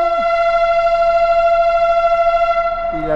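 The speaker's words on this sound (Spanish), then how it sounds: "la locomotora anunciando que se va" A locomotive horn sounds one long, loud, steady tonal blast as a train departs in Bariloche, Argentina, with a short drop in pitch at the start and end.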